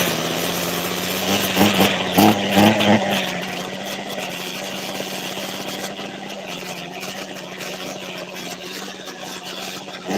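A small engine runs steadily throughout, with a brief burst of louder revving near the start before it settles back into a constant idle-like drone.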